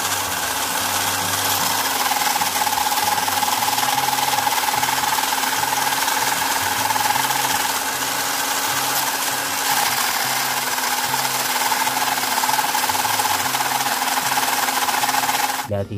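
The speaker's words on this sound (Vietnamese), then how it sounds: "Giờ mình sẽ để vô con máy này mình mài lại cho anh em xem nha." OZITO drill bit sharpener grinding a drill bit: a steady, continuous motor whine and grinding hum holds at an even level throughout, ending with a short rattle.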